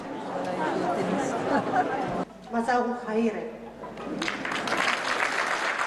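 An audience claps steadily across a large concert hall, with a voice breaking in midway before the applause swells again.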